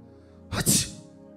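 A preacher imitates a sneeze with his voice during a Tamil Christian sermon, giving one short, loud burst over a faint, steady background hum.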